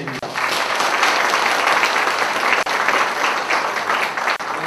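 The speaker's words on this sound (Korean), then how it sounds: "열정적으로 강연을 해주신 정세균 최고위원님께 다시 한번 뜨거운 박수 부탁드립니다" An audience at a political party lecture event claps loudly and continuously for a speaker, a dense sustained round of applause that fills the whole stretch.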